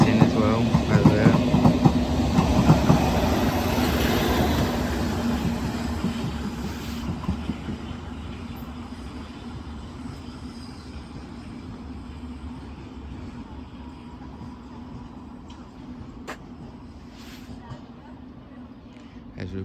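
A London Underground Hammersmith & City line train pulls out of Barking station, a loud rumble and rattle of wheels that fades steadily as it departs, with a few faint clicks afterwards.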